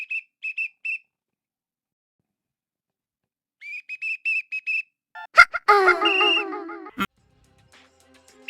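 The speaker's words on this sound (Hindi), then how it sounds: "यार पूरी रात सीटी मारते हैं और सीटी की आवाज सुन के मुझे नींद भी नहीं आती है।" A night watchman blowing a whistle, heard as short repeated shrill blasts in two bursts with a long gap between them, followed by a louder, wavering whistle and a sharp crack.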